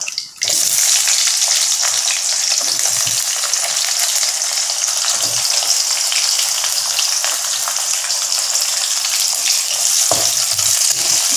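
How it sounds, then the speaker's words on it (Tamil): Onions dropped into hot oil in a pan, bursting into a loud, steady hissing sizzle after a brief opening clatter, with occasional stirring scrapes and no talking. "இப்போ வெங்காயத்தை போடும்."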